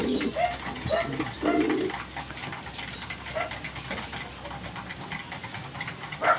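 Racing pigeons coo softly in short repeated bursts while being fed bird seed mixed with canary seed, over a low steady background hum.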